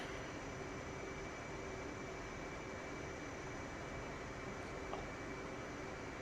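Steady, even jet engine drone from aircraft taxiing on the ground in the DCS World flight simulator, a constant hum with a faint high whine and no break throughout.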